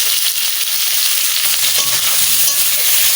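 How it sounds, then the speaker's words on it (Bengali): Potatoes sautéed with salt and turmeric sizzle loudly and steadily in hot oil, with a few soft stirring knocks underneath. "ভালো করে সুন্দর করে কষায় নেব লবণ হলুদ"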